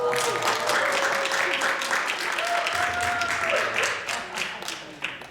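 Loud, dense applause from a church congregation, many hands clapping steadily together with a faint tonal voice or cheer running underneath, tapering off toward the end.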